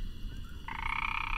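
A frog croaks in a Hindi-dubbed feature film scene, first with a lower rasp and then switching to a sustained, bright, buzzy trill, close and clear with no speech over it.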